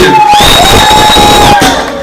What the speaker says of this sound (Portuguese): Aplausos para A Lucicleide